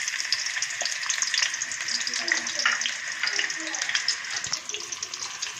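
Onion sizzling and frying in hot oil in a kadhai, a steady bright crackle that runs continuously and close throughout, with faint background voices.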